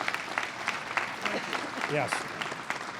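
A crowd at a farm show applauds briefly after the unveiling of a butter sculpture, scattered clapping mixed with voices and a short spoken reply nearby.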